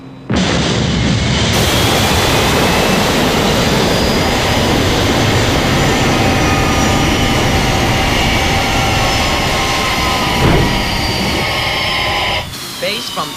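A Thunderbird rescue aircraft comes in to land, its engines giving a loud, sustained roaring rush with a brief thump near the end before the noise drops away.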